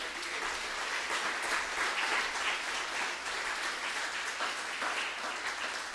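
A church congregation claps loudly and steadily in a dense, sustained round of applause that fills the room with no talking over it.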